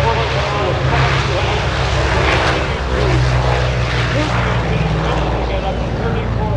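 Loud, steady drone of a C-121 propeller airliner's piston engines at the Oshkosh airshow, continuous throughout with a voice talking over it.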